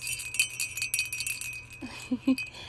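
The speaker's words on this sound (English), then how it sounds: "as well as a silver bell, which sounds like this." A small silver bell jingles rapidly with bright, tinkling shakes, followed by a few softer, lower tones toward the end.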